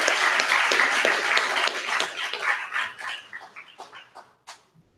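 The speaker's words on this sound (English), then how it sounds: "Another round of applause for the chairman of the African Social International African People's Socialist Party" Applause for the chairman of the African People's Socialist Party at a Black August celebration: a burst of clapping and crowd noise that thins out into scattered claps and fades away.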